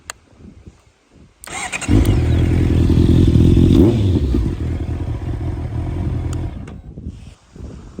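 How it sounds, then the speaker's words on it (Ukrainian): A Honda CB650R four-cylinder motorcycle engine with stock exhaust cranks and starts after a quiet moment, then settles into a loud, steady idle, with a slight blip of revs around the middle before fading near the end. "Навіть без цього вихлопа звук чотирьох циліндрів він дуже крутий"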